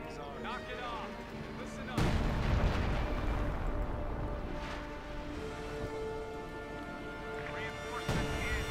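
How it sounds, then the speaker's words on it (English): Artillery strikes in Company of Heroes 2 land as heavy booms, one early and another near the end, with rumbling debris between them and a commentator talking over everything. "artillery going in as well!"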